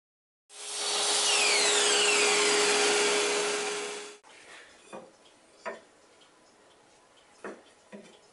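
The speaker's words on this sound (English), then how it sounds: "now it's just a case of cutting the 45 degree angles for the corners" A power saw slices 45-degree corner angles into mahogany clock pieces in one loud, steady cut of about four seconds. Quieter workshop clatter and a few sharp knocks follow.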